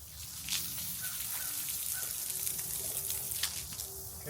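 Candy being rinsed under a running tap, a steady close wash of splashing water with brief louder gushes, running continuously without a break.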